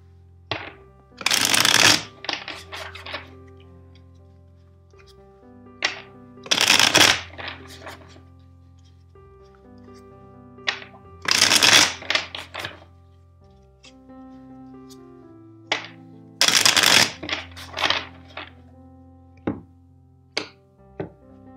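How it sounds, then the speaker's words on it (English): A tarot deck gets shuffled in four separate bursts of riffling card flutter, each a couple of seconds long and spaced evenly, with light taps and card handling in between. "First, let's shuffle the deck four times for you."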